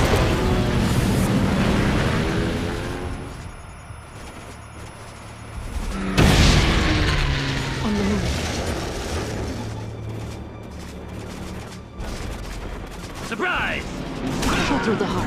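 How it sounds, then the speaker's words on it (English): Explosions from an airstrike rain down on enemy gates in the real-time strategy game Red Alert 3, a dense barrage of booms and crackling blasts with a big impact midway, layered over battle noise and game music. "Natasha can call down an airstrike on the gates."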